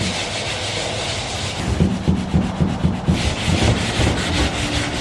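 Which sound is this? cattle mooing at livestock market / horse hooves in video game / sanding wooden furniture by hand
sanding wooden furniture by hand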